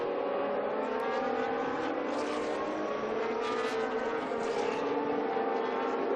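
A historic race car on the circuit at the Grand Prix de France Historique, its engine whining in a steady, tonal high-revving note that rises and falls slightly as it passes, heard clearly and alone.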